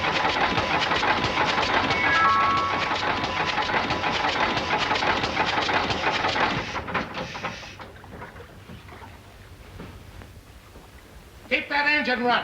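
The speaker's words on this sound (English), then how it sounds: "Keep that engine running." A boat's motor drones steadily at mid pitch for several seconds, then drops away as people speak over the quieter background.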